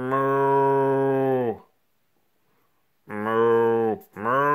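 A voice imitates a cow mooing during a read-aloud children's story: two long, loud, drawn-out moos with a pause between them, then the start of a third.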